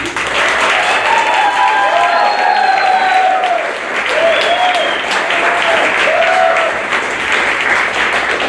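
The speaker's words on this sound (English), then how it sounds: "if you give them a little clap so they can hear you" On an opening night of a school play, the audience gives sustained applause for actors waiting backstage, a full, loud roar of clapping that holds steady while someone talks over it.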